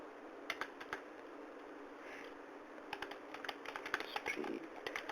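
Quiet typing on a computer keyboard, with scattered keystrokes early on and then a quicker burst of close, light clicks toward the end.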